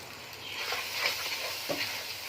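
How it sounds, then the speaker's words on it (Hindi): Coriander powder roasting in a pan for cabbage keema, a soft continuous sizzle with light stirring scrapes close by, steady and fairly quiet with no talk. "इसको अच्छी तरह से भून लेते हैं।"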